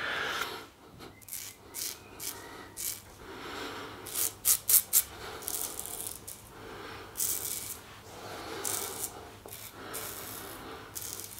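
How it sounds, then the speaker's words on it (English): A shaving brush lathers a slick Maximo Gomez Cuba shaving soap: wet, squelchy rubbing and swishing, steady and close, with brief bursts of brisk scraping strokes partway through. "you hear this sort of sound, it's like somebody buttering toast"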